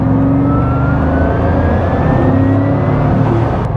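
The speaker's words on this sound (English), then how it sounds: "I can't get over the mid-range acceleration on a half throttle" A 2021 Bugatti Chiron Pur Sport accelerates hard on a public road at part throttle, its engine a loud, continuous rising roar heard from inside the car, with a slow climbing pitch across a single pull.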